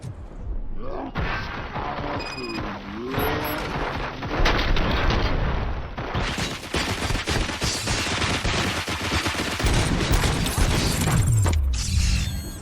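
Gunfire in the RoboCop: Rogue City video game played on Xbox Series X, with heavy sustained volleys, rapid automatic bursts and booming impacts amid mechanical clatter, loud throughout.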